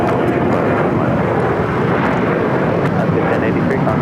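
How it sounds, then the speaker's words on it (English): An Alaska Airlines Boeing 737-800 takes off from LAX's south side, bound for Seattle, its jet engines a loud, steady, broad roar that fills the whole stretch with no pause. "Next takeoff here on the south side is Alaska Airlines, flight 1083, heading to Seattle, Washington, a 737-800"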